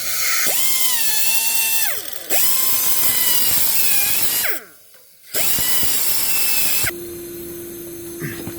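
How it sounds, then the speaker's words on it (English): A high-pitched rotary tool whines loudly in several bursts, its pitch rising and dropping as it cuts off a small metal pin on a Ford NAA Jubilee tractor's parking brake, with brief pauses between cuts. "we're going to just try to cut this little pin off"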